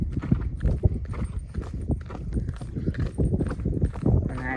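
Hooves of a mare clip-clop at an unhurried pace as she is driven slowly, steady repeated hoof strikes up close with someone talking over them.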